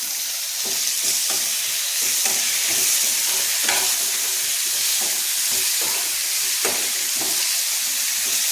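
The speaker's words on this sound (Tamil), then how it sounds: "தக்காளியை சேர்த்து வதக்குவோம்." Tomatoes sautéing with ginger garlic paste in a pan, a steady close sizzle with repeated scraping stirs of a spatula throughout, no talking.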